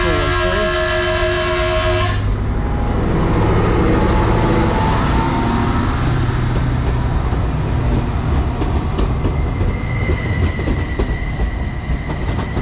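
A Class 755 train at Darsham station on the East Suffolk Line gives a loud, short horn blast at the start, then thunders past close by with a steady roar, high squealing and rhythmic clacking from the wheels.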